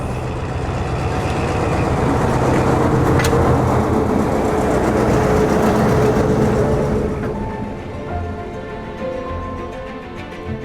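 A heavy train rumbles past nearby, a loud sustained roar that slowly fades as it moves away.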